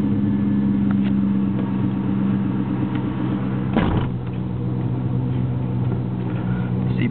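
A 1999 Cobra's warm engine turns over and catches with a brief surge midway, then settles into a steady low idle rumble, moderately loud with no talking.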